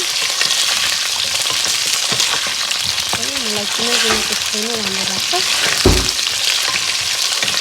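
Onions sizzle steadily in a pan while someone talks over the frying, with a brief clatter near the end.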